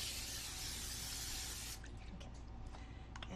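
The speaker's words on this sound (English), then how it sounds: "I'm going to spray it lightly with olive oil" Olive oil misted lightly from a spray bottle onto cut pita, a close, steady hissing spray lasting under two seconds, then faint kitchen handling sounds.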